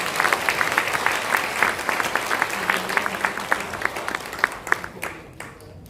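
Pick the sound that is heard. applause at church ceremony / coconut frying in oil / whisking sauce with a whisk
applause at church ceremony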